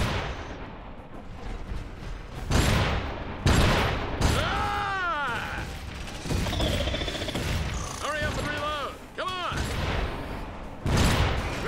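Gunfire and explosive bursts in the video game Iron Brigade, loud repeated blasts and mechanical clanks layered with whooping synthetic effects and game music, with speech over part of it.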